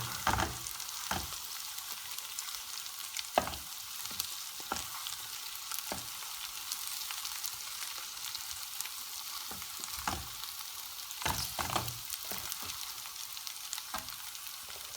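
Two cracked eggs sizzle and fry in a pan, a steady crackle broken by repeated scraping strokes as they are stirred, close and moderately loud with no talking.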